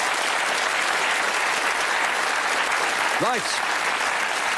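Studio audience on the UK game show Bullseye applauds steadily and loudly throughout, a dense continuous wash of clapping, with a brief spoken word near the end.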